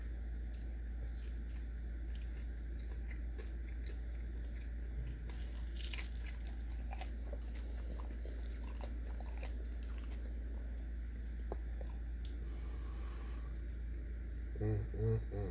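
Close, quiet crunching and biting on fried buffalo fish ribs dressed in red hot sauce, with scattered chewing over a low steady hum and faint murmuring near the end.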